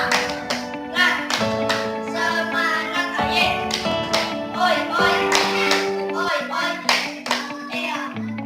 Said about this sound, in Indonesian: ayo sama-sama kita tepuk semangat terlebih dahulu ya